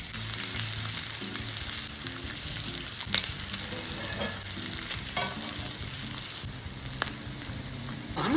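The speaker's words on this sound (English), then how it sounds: "I'm gonna reverse sear it to get a nice crust on it." A steak sears in avocado oil in a skillet, giving a loud continuous sizzle and spatter with occasional sharper pops throughout.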